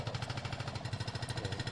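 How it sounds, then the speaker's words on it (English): A jackhammer tears up a footpath nearby, pounding in a fast, steady rhythm of dense repeated blows that go on without a break and without speech. "That's a different jackhammer."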